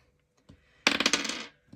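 Numbered die rattling and clattering briefly across a hard surface, a quick close burst of tumbling clicks after a faint tap, then settling.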